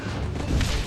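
A single bomb explosion in the mobile video game GUNS UP! lands as a short, muffled low boom that swells briefly and fades within a second.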